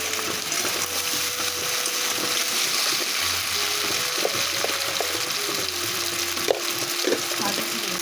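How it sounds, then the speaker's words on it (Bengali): Fish curry with taro and spices sizzles and fries steadily in a pan, a continuous hiss with occasional stirring scrapes, close up and alone. "এবারে মা কষিয়ে নিক।"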